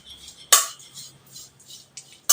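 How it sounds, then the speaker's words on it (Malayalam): Flattened rice (aval) roasting in a pan gives a few sharp metallic clinks and scrapes from a utensil against the pan, close and intermittent, with soft rustling between them and no talk. "ഇത് നല്ലതുപോലെ ക്രിസ്പി ആവുന്ന വരെ നമ്മൾ വറുത്തെടുക്കണം"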